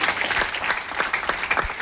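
An audience at a motivational seminar breaks into loud, steady applause, dense overlapping claps filling the room throughout.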